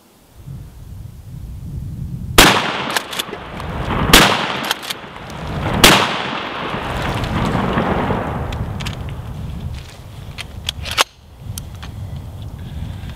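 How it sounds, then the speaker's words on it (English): A shotgun firing 1-ounce rifled slugs at cover from about 7 or 8 yards: three loud, sharp blasts about two seconds apart, each followed by rumbling debris and echo, then a final sharp crack near the end. "All right, I'm going to shoot it 3 more times"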